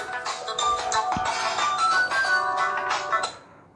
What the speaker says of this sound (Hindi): फ़ोन आ गया वन मिनट